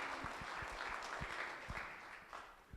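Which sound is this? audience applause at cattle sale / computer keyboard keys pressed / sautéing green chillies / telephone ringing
audience applause at cattle sale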